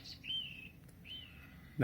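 Two short electronic bird chirps, high and sweeping, repeat from the small speaker of a Philips Somneo wake-up light alarm at low volume, followed by a brief thump at the end.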